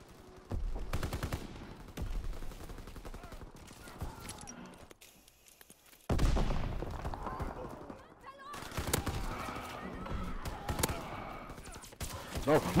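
Gunfire from a Call of Duty: WWII match, including a shotgun, comes in sharp bursts amid chaotic game noise, with a few quieter gaps and a voice speaking over parts of it.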